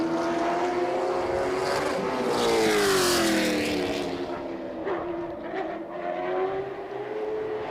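A CARS Tour race car lapping South Boston Speedway, its engine note swelling loud as it approaches and rushes past with a falling pitch, then fading into the distance under crowd and track ambience.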